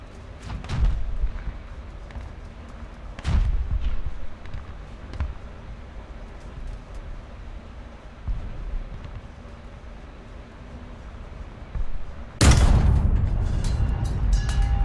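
Tank cannon shots and hits in a simulated ground-combat tank game: scattered heavy thuds and booms over a low rumbling engine bed, ending in a loud, sustained blast near the close.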